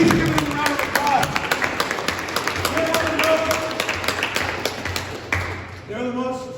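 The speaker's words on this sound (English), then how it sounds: "So can you please give him a round of applause?" At a basketball awards gathering, a crowd claps for the players, a fast dense patter of many hands that is loudest at first and gradually thins, with voices and chatter mixed in throughout.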